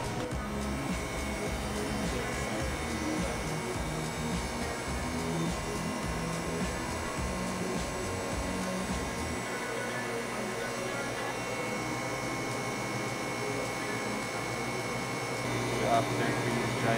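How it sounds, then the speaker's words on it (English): A laboratory freeze dryer runs with a steady, loud mechanical hum and broadband machine drone throughout, its low rumble dropping slightly partway through, while faint voices speak in the background. "After freezing it, we load it in a freeze dryer."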